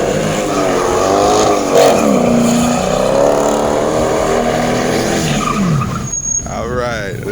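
A Mercedes-Benz S-Class W210 AMG on custom wheels does a burnout: a loud, continuous screech of spinning tires over a roaring engine. Voices of onlookers cut in near the end.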